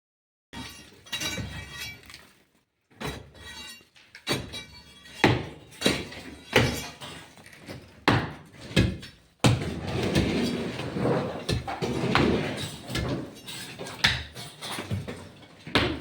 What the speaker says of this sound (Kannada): ಹೊಸ ಮನೆ ಕಟ್ಟೋಕ್ಕೆ ಹಳೆ ಮನೆ ಎಲ್ಲ ಕೆಡುತ್ತಾ ಇದ್ದೀವಿ.